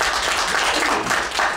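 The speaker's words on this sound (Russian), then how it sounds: "аплодисмент." Audience applause at a talk in a museum hall, a dense steady patter of many hands clapping at even loudness throughout, with no voices over it.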